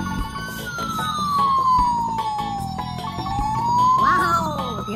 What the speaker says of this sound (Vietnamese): Tiếng còi hú rất là quen thuộc của chúng ta đúng không?